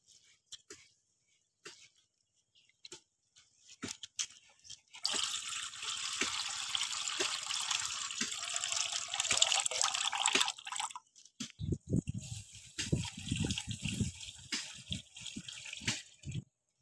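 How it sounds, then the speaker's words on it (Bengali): Rice being washed by hand under a running kitchen tap, faint drips and splashes leading into a steady stream of water, then squelching, sloshing handling of the wet grains in a bowl. "চালটা ভালো করে চটকে চটকে ধুয়ে নেব।"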